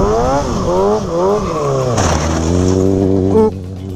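A Kawasaki 636 sport motorcycle drifts on a street, its engine wailing and rising in pitch while the tire squeals loudly, then the revs drop and settle into a steady drone.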